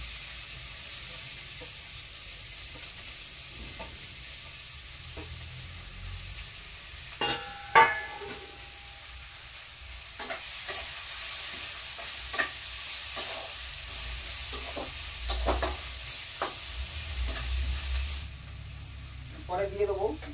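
Chopped onions frying and being stirred in a pan while cooking matar paneer, a soft steady sizzle with intermittent scraping clicks of the stirring utensil, fairly faint and close.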